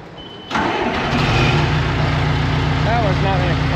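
A Milwaukee Tools bulldozer engine cranks with a steady, loud, close mechanical churn that keeps turning without catching, continuing unchanged to the end.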